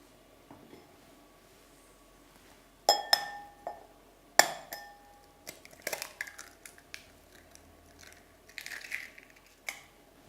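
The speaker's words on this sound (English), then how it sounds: "break the egg into the glass you received" Sharp glassy clinks and taps, several in a row, then a crack and a few lighter knocks as an egg is broken against and into a glass during a magic trick.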